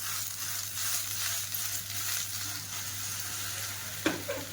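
Okra sautéing in hot oil with chili powder and turmeric, a continuous close sizzle with faint stirring scrapes and one brief louder clink near the end.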